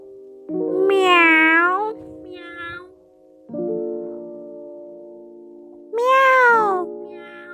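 A cat in rural Isaan, Thailand, meows twice, close and loud, with rising-and-falling cries several seconds apart over a steady background hum.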